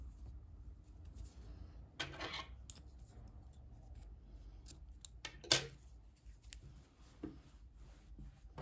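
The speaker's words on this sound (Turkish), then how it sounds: "İpliği burada kesiyorum." Scissors snip through crochet yarn in a few short, crisp cuts, one near the start and a sharper one midway, against a quiet background.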